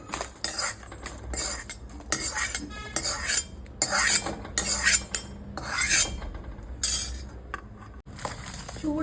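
A utensil scrapes and clinks against a pan again and again in quick, uneven strokes while roasted fish curry ingredients are scooped out, close and clear with no talk.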